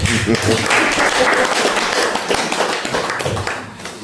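A church congregation at a testimony gathering applauds in praise of the Lord, a dense, loud wash of clapping with voices mixed in throughout.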